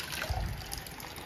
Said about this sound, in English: When the water comes out from the overflow hole,